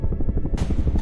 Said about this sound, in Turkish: Helikopter sesi.